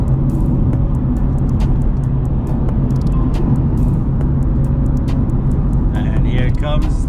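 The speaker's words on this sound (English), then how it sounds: "Here comes the M4." BMW M4 arriving at an early-morning car meet on empty streets in Saudi Arabia, a steady loud engine drone close by with a whoosh of passing traffic, while people talk excitedly over it.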